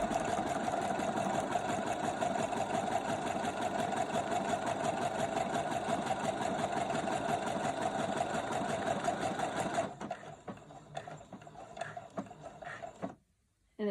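A sewing machine stitches the second side of a buttonhole with a steady, loud mechanical whir that runs unbroken for about ten seconds, then slows into scattered clicks and light taps before stopping.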